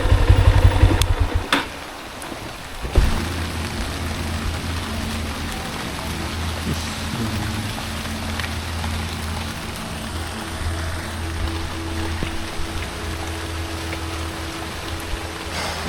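Rain falls during a long motorcycle ride from Dhaka to Sapahar in Bangladesh. A steady hiss of rain and wind continues throughout, with a low engine hum underneath and a brief louder thump near the start.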